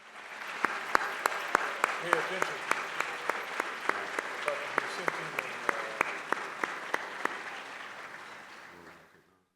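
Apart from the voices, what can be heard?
audience applause for board members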